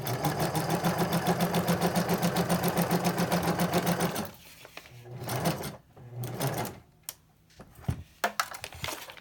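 A sewing machine stitches trim and tabs onto a junk journal page, a fast rhythmic close whirr for about four seconds, then stops, followed by handling clatter and knocks.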